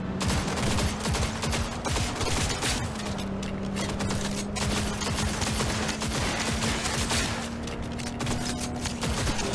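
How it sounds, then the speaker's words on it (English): Sustained gunfire from a Cyberpunk video game, dense rapid bursts of shots running continuously over a steady low drone, loud and unbroken throughout. "I woke up to a lot of shooting."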